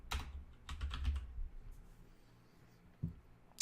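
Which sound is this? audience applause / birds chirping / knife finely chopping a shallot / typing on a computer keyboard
typing on a computer keyboard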